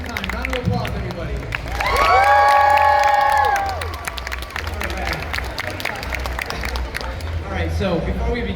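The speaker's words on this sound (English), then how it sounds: "One more time, round of applause, everybody." Convention crowd at an Avatar: The Last Airbender fan panel in Anaheim clapping and cheering, with high excited shouts and whoops swelling in the middle, then settling into scattered applause and crowd noise.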